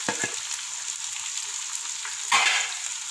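Spices sizzle steadily in hot oil while frying for beef pulao, a broad hiss with a couple of stirring scrapes near the start and a louder burst of sizzle toward the end, no voices.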